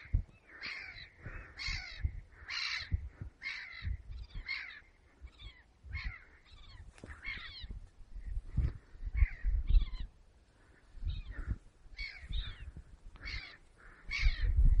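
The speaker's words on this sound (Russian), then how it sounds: "Еще одна чайка." Seagulls call in a run of loud, harsh cawing cries, some overlapping, with a steady rhythm for about fifteen seconds and no voices.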